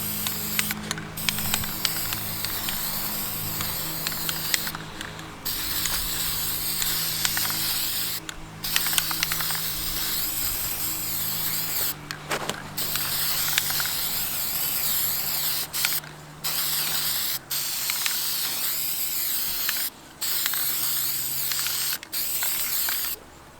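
A spray paint can hisses in bursts of varying length, separated by short pauses, with faint mechanical clicks between sprays.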